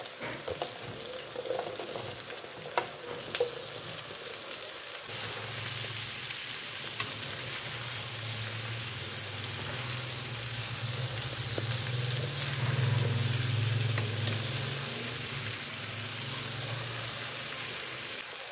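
Radish and lemon pieces frying for a mixed vegetable pickle, giving a steady, dense sizzle that runs throughout at moderate loudness, with a few clinks early on and no talking.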